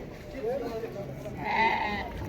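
Two short bleats from dairy goats rise over the hubbub of the Karabulak livestock market, one near the start and a louder one near the end, amid nearby voices.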